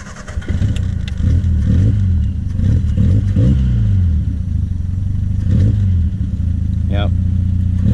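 The engine of a Triumph Spitfire runs close by with a rough, uneven idle and a few blips of revving, while someone talks over it.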